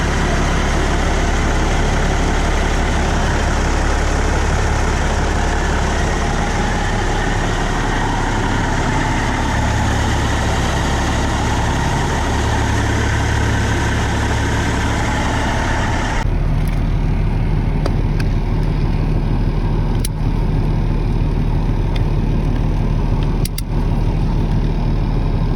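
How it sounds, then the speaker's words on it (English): A Peterbilt 379 truck with a CAT 3406B engine and a new turbo idles steadily, a deep continuous rumble with a whistling turbo hiss, close and loud throughout, the tone shifting slightly partway through. "Hopefully you guys can hear the turbo."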